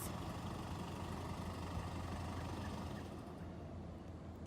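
A car engine idles steadily after a remote start, a low constant rumble with no speech.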